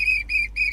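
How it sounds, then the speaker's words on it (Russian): Three loud, steady whistle tones with short gaps between them, heard in the video game Hello Neighbor. The clear, high notes sound alone with no talking. "Любите свистеть, да? Прям обожаете."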